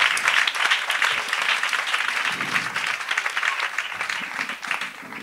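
A church congregation breaks into dense, steady applause in praise of the Lord, filling the room evenly for several seconds, with a few voices faintly mixed in.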